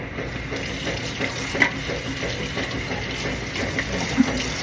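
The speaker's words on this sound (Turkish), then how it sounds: "bunu da yıkadık. Soğanımızı da yıkadık." Kitchen tap runs in a steady, close wash while onions are rinsed under the stream, with a few faint clinks from the sink.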